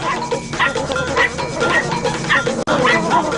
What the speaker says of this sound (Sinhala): මන් දැන් යන්නේ කෑ ගහන බල්ලෝ ටික ඉන්න ගේ ගාවින් තමයි.